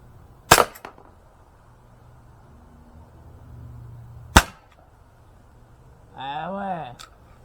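An Umarex Glock 17 Gen 5 T4E training pistol fires balls in two sharp, loud cracks a few seconds apart, with a voice speaking briefly near the end.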